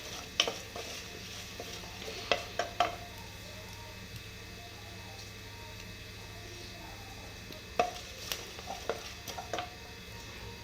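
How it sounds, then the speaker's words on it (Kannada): Coriander seeds roasting in oil in a pan for sambar crackle softly, with scattered clusters of small pops and ticks over a low steady sizzle. "ಸ್ವಲ್ಪ ರೋಸ್ಟ್ ಮಾಡ್ಕೋತೀನಿ ಎಣ್ಣೆ ಹಾಕಿಬಿಟ್ಟು."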